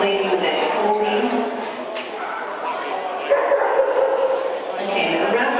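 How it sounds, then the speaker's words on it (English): Puppies leaving the ring at an agricultural show's group judging, with yips and barks scattered through a busy, loud mix of crowd noise and applause as people talk nearby. "The puppy class entries head out of the ring."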